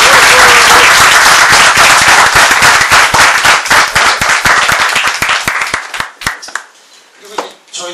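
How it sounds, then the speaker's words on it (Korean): An audience at a talk event bursts into loud, close, dense applause that gradually thins into scattered individual claps and fades out near the end. "박수 다시 한번"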